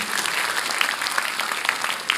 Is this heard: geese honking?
no